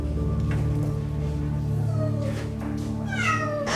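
A black cat in a kitchen meows loudly and close by, giving a few drawn-out, rising cries over a steady background hum.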